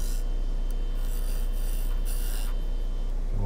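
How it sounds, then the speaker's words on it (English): A diamond tool cuts a dovetail into a maple blank spinning on a wood lathe, giving a close, continuous rasping scrape over a low steady machine hum, with a few brighter bursts of cutting. "I'm going to use the diamond tool here to put the dovetail into it."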